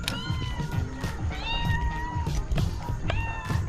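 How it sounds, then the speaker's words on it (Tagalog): A cat meows repeatedly from inside a locked room, its rising, drawn-out cries coming close and loud in several calls over a steady low background rumble. "May kundi itong pusa. Hindi siya nakalabas eh."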